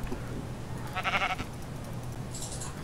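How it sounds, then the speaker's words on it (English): A sheep in the Minecraft video game lets out a single short bleat, clear and fairly close, followed by a faint higher blip over quiet background noise. "Oh, that's a sheep."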